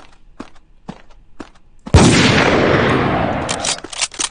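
A single semi-automatic rifle shot in CrossWar, a loud sharp crack with a long decaying tail, preceded by several soft footstep-like clicks in a quiet room.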